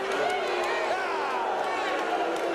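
A 1995 late-night talk show studio audience cheers and shouts in a steady, loud roar that stays continuous throughout, with voices mixed into the din.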